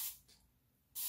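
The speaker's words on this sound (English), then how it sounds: "I'm spraying my hair" A spray bottle mists water onto natural 4C hair with two short, close hissing bursts, one at the start and one at the end, separated by near silence.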